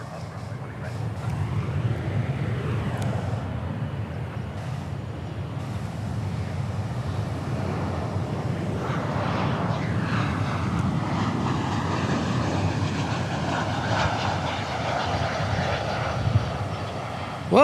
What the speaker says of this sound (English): We got a JetBlue arrival from Fort Lauderdale on this side.